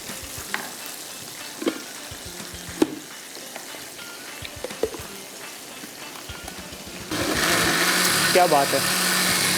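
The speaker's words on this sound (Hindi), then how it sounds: "सिर्फ इसको ब्लेंड कर देना है आपने।" A blender whirs up a strawberry smoothie, a loud continuous roar that starts abruptly partway through after quieter clinks and brief speech.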